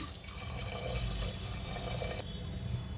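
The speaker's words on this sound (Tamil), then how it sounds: "2 கப் பால் சேர்த்துக்கிறேங்க." Milk is poured into a pressure cooker holding soaked rice, a steady close liquid splashing and trickling that carries on for several seconds without speech.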